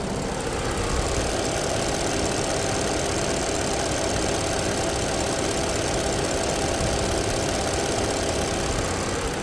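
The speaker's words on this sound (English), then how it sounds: "You could actually hear the engine idle." A 2016 Ford Police Interceptor Utility idles with a steady, low rumble, with a faint uneven knock in the drone and no voices over it.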